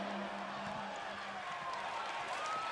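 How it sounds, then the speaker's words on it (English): Wrestling arena crowd at an AWL Grand Championship event, a steady broad murmur of many voices throughout, with a faint tone held underneath. "Crowd is abuzz here."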